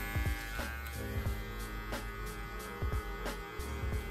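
Electric hair clippers buzz steadily at close range with the taper lever open during a burst high-taper haircut, the hum shifting as the blades press into hair with brief intermittent pulls and touches, no talking.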